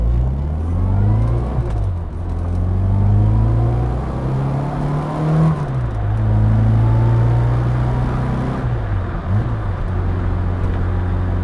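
A 1963 Austin Mini Cooper Mark 1 is heard from inside while driving, its engine droning loudly and rising and falling in pitch through gear changes, with road noise and no talking.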